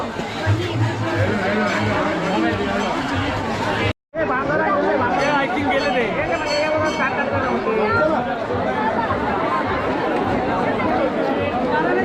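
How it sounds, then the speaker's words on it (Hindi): Dense crowd chatter at the main entrance of the Dwarka temple, a steady babble of many voices close around, briefly cut to silence before resuming just as thick. "और बहुत ज़्यादा भीड़ है यहाँ पे"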